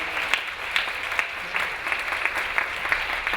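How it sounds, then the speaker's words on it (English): Steady applause from an audience for a group of young people, moderately loud and continuous with a few sharper claps rising out of the wash. "let's give another round of applause to those spectacular young people, please."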